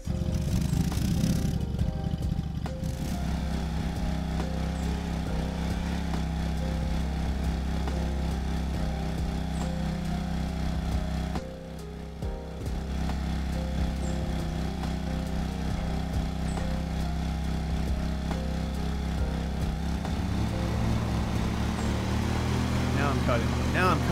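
A lawn mower engine runs in a lawn mowing simulator game, a steady close buzzing drone with a brief dip midway, while a person talks over it much of the time.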